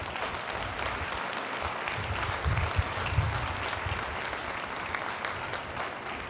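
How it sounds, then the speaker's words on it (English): A crowd applauds steadily at the christening ceremony for the submarine New Jersey (SSN 796), the dense clapping sustained and fairly loud with no voices over it. "Let's give them a round of applause."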